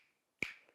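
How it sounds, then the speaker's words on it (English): A single crisp finger snap cracks out of near silence, close and sharp, followed by a short faint ring. "I'm snapping my fingers"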